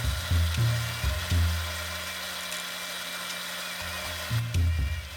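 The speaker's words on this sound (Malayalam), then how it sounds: "ഇതിട്ടിട്ട് നമുക്ക് ഇത് ഒന്ന് മിക്സ് ചെയ്ത് പൊടിച്ചെടുക്കണം" Mixer grinder pulsing as it powders Kerala garam masala spices, with loud motor bursts starting and stopping in short runs. A steady lower whir continues between the pulses, and no one speaks.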